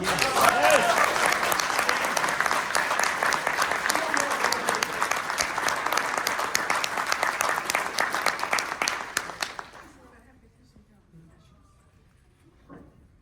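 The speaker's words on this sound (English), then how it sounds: "Can we do a special applause for her?" A press-event audience breaks into loud, sustained applause, a thick crowd of clapping hands that runs strong for about nine seconds before tapering off into near silence, with a few stray claps at the end.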